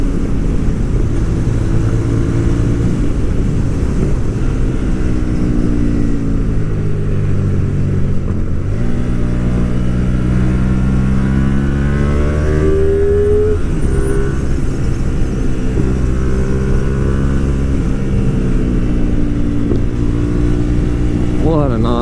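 A Hyosung GTR250R motorcycle under hard riding, its engine revving loudly and steadily, rising and falling in pitch through repeated acceleration sweeps for the whole stretch.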